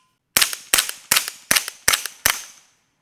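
A suppressed Scorpion EVO SD fires six shots of 115 and 147 grain rounds. The reports are sharp and evenly spaced, each with a short decaying tail, against a quiet background.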